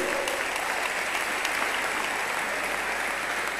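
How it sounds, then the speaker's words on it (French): Large auditorium crowd of about ten thousand applauding steadily and cheering, a dense continuous roar of clapping that stays loud and even throughout. "on peut acclamer."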